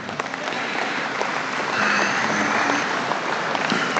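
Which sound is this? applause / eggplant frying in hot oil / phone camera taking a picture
applause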